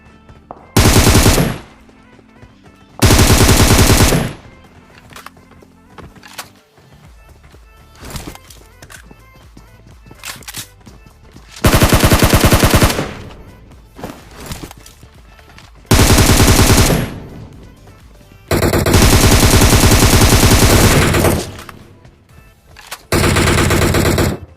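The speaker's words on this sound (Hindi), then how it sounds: "मैं अंधी फायरिंग किए जा रहा था" Bursts of rapid automatic gunfire in a video game, several loud sustained volleys separated by quieter gaps of in-game ambience, with no voices.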